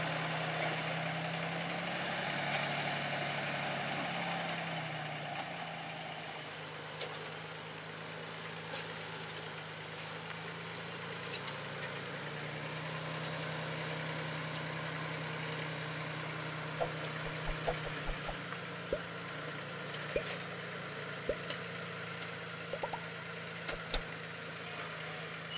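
D4 locomotive on a sugarcane plantation rail line idles with a low steady engine rumble and hum, with faint clicks and knocks scattered toward the end.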